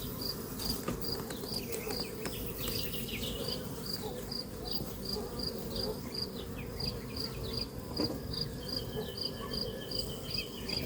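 Dense, steady buzzing of many honeybees close by at the hive, a constant droning hum with a faint repeating chirp over it.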